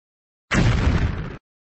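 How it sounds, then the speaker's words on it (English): A cartoon explosion effect as a tomahawk destroys a Domino's pizza: one loud, dense burst lasting just under a second, abruptly starting and cutting off, with nothing else around it. "I destroyed Domino's pizza with tomahawk."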